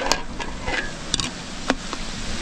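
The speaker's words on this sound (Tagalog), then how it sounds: "Ayun, magigisa na po. Sibuyas." Garlic and onion sautéing in a pan for beef kaldereta at a catering job, a steady soft sizzle broken by a few sharp clinks and scrapes of stirring.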